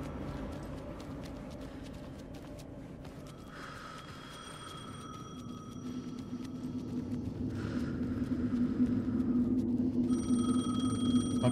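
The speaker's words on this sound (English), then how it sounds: "Answer the phone. The phone again." A telephone rings repeatedly in the video game Alan Wake 2, evenly spaced rings rising over a low rumbling ambient backdrop that slowly swells louder.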